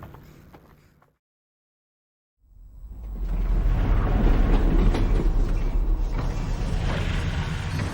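A train in Half-Life: Alyx rumbles up after a second of silence, building into a loud, steady rolling roar of rails and creaking mechanisms that carries on to the end.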